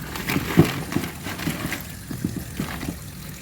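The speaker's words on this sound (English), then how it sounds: "I like to wash my frozen okra." Frozen okra being rinsed in water in a home kitchen, with irregular close splashes, sloshing and knocks of pods moving through the water, no talking.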